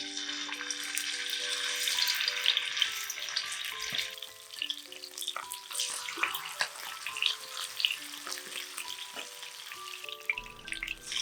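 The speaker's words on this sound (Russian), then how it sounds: "выкладываем кусочки курицы на горячую сковородку" Chicken pieces sizzle and crackle in hot oil in a pan, a bright steady frying hiss with scattered pops and clinks.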